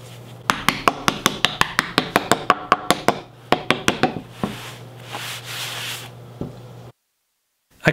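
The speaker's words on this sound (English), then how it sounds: "I carve out the other two bow tie holes" A chisel cuts bow tie holes into a live edge wooden slab with a quick series of sharp taps, about a dozen in a row, then a pause and more strikes, followed by scraping and a steady hum before silence.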